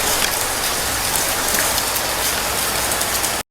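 Steady rain falls in a dense, even hiss of drops on a surface, loud and continuous with no voices, stopping abruptly at the end.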